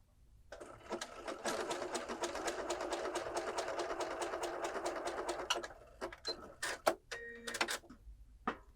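A sewing machine runs steadily for about five seconds stitching stretchy knit fabric for a circle skirt, then gives a few short bursts and clicks as it stops and starts.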